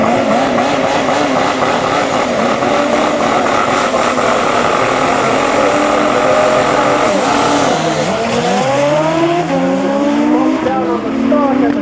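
A Kawasaki drag racing motorcycle launches hard from the start line at a drag strip, its engine screaming loud and close, rising in pitch through rapid gear changes as it pulls away, with announcer commentary running over it.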